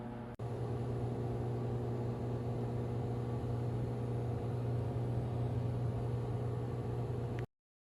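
A microwave oven runs steadily while heating s'mores, a constant low hum with a strong tonal drone and fan noise that starts abruptly after a brief click and stops cleanly near the end, no voices.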